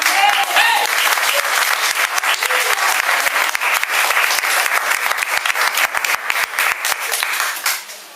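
A church congregation applauds loudly and steadily, with dense clapping that stays full throughout and then fades away at the very end.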